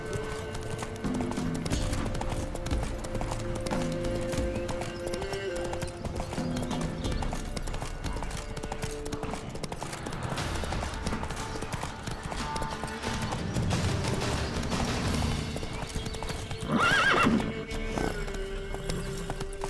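Horse hooves clip-clop steadily in The Witcher 3 as the horse is ridden, with a rhythmic gallop throughout and a clear whinny near the end over faint game music.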